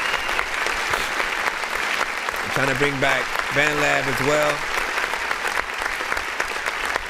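Bursts of applause from a clap-button sound effect play behind a music review show, steady and fairly loud, with someone talking over the clapping throughout.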